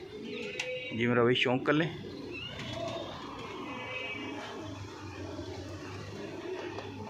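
Hare pigeons of the Punjabi Malwai breed coo softly in a low, steady murmur, with faint chirps above, while someone talks loudly over the first two seconds.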